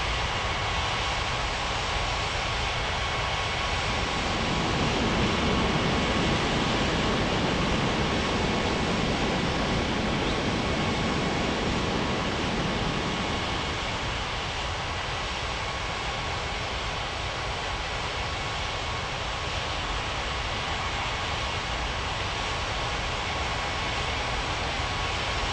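Iberia airliner taking off from runway 05 at Springbrook Airport in the Uatc game, a steady broadband engine roar that builds and holds, then settles into a continuous hiss with no voices.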